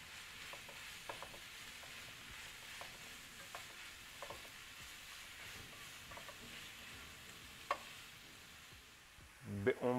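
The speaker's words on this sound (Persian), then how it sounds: "فلفل سیاه، نمک، و خوب مخلوطش میکنم." Fish seasoned with black pepper and salt is stirred in a pan over a faint, steady sizzle. Soft scraping strokes come at intervals, and a few louder clatters follow near the end.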